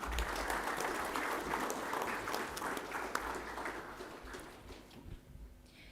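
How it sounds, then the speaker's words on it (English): An audience at a launch event applauds, a faint, steady wash of many hands clapping from a distance that slowly tapers off toward the end. "Let's give him another big round of applause, please."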